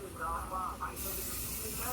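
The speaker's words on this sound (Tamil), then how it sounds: "இதோ இப்போ ஸ்ப்ரே பண்ணுறாரு இல்லையா" Spray paint hisses onto vehicle lettering, a steady close airy hiss that takes over halfway through, with someone talking just before it starts.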